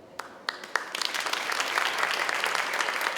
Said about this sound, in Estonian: See on aplausi väärt.